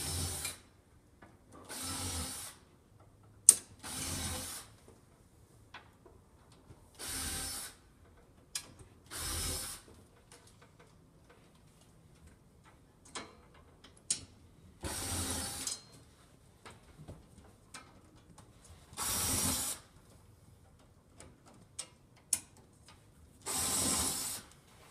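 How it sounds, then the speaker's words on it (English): Power driver sinking plate mount screws during a dropout spice rack installation, about a dozen short whirring bursts spaced a few seconds apart, fairly quiet with faint clicks and handling noises in between. "Now we'll proceed to install 8 more of the plate mount screws"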